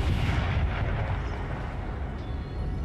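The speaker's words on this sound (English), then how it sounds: "You can see the 12 pounders shooting across there." 12-pounder artillery cannons firing on a battlefield in Napoleon Total War, a dense, continuous rumbling roar of overlapping cannon blasts at fairly steady volume, with no talking.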